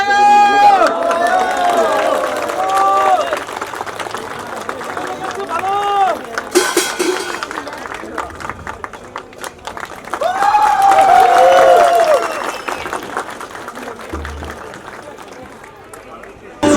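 Applause and cheering ripple through a crowd at a political rally in Lalitpur, swelling in two bursts and mixed with a voice talking over the clapping.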